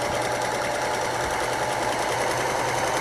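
A sewing machine stitches continuously with an elastic attachment, a rapid, steady mechanical whirring and ticking close up, running on its own without pause or voices.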